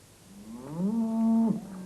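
A single long cow moo, rising and then holding steady for about a second before breaking off, loud and close with no talk.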